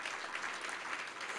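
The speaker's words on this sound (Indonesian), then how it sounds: "Berikan tepuk tangan, haleluya." A church congregation applauds with steady, fairly faint clapping that fills the whole short moment and has no speech over it.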